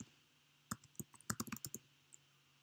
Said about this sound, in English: So now we can type something after I hit I.